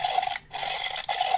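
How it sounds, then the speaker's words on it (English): Raspy electronic grinding chewing sound from a DX Medagaburyu toy, repeating in two bursts separated by a brief pause, close and moderately loud. "As you can hear, that is the sound of him chewing."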